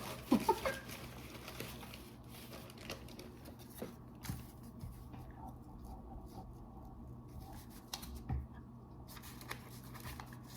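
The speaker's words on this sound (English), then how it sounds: "can probably hear me ruffling through my stuff." Rustling and shuffling of craft supplies being dug through in bags holding paper scraps and fabric scraps, soft scattered rustles and light taps at close range over a quiet room.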